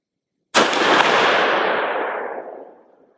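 A single loud Marlin Dark Series rifle shot firing a 325-grain load cracks sharply, then rings out in a long rolling tail that fades over about two and a half seconds, heard alone without voices.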